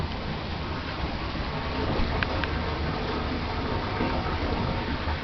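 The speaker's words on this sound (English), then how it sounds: "It's the sound of some more water coming in." Steady broadband rush of water pouring into a tank, continuous and fairly even throughout, with no voices.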